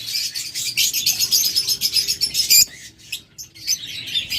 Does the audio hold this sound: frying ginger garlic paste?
no